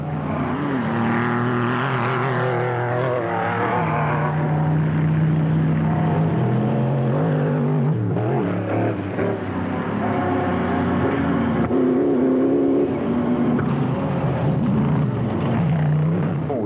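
Rally cars race along a dirt stage loop during the 2006 Sugarbelt 400, engines roaring loudly and continuously up close with revving swells and gear changes and no talking.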